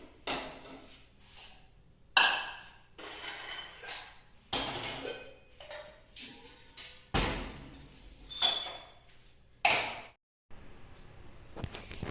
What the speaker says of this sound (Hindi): तो मैं किचन में एक जगह सारे बर्तन कर लेती हूँ।